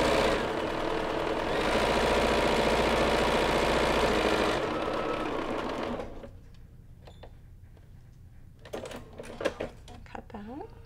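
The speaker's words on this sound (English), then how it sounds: "And then we're gonna move over to the sewing machine again." A sewing machine stitches a foundation paper pieced quilt block, running in a steady, dense mechanical whir for about five seconds before stopping, followed by quieter handling sounds and brief talk.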